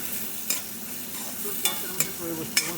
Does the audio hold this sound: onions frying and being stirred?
yes